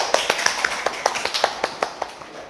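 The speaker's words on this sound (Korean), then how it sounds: "박수." A small group clapping in a yoga class, a steady run of sharp, evenly spaced claps at moderate volume for a couple of seconds, with no talking.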